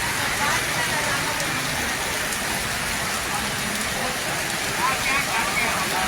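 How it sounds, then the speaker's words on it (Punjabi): Heavy rain pours at the Jagraon vegetable market, a dense, steady hiss and patter on surfaces close by that runs unbroken throughout. "ਮੀਂਹ ਬਹੁਤ ਤੇਜ਼ ਹੋ ਚੁੱਕਿਆ"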